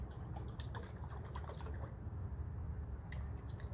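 A feeder can of bee sugar syrup, mixed two parts sugar to one part water, lets out small quiet drips and a faint trickle at close range, with the patter thinning out toward the end.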